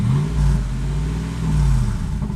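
Lexus GX470 with SPELAB remote exhaust cutouts open, revving in short swells that rise and fall twice, a loud, deep, throaty exhaust close by.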